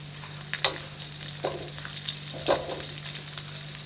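Onions sautéing in a pan for chicken varuval make a soft, steady sizzle, with a few stirring scrapes standing out now and then.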